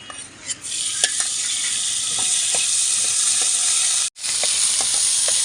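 Chicken deep frying in a nonstick flat pan gives a loud, steady sizzle with hiss, broken by a few stirring clinks and one brief pause before the frying noise resumes.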